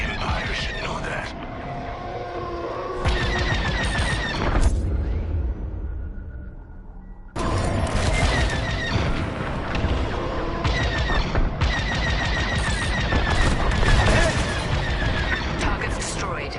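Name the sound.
gunfire at station turrets in a video game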